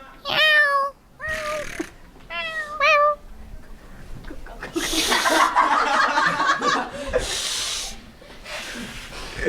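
A voice imitates a cat with three drawn-out wavering meows, followed by breathy hissing laughter and chuckling, close to the listener.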